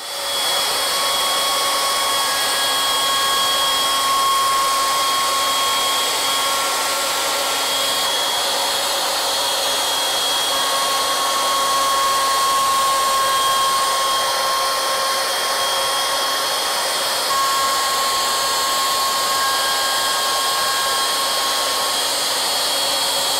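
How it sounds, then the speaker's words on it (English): A router fitted with a 2-flute straight cutter cuts square shoulders and a tenon in a wooden candlestick, a loud continuous high whine holding steady throughout with no pauses. "Now we'll use a 2-flute straight cutter to cut the square shoulders inside these 2 cuts here"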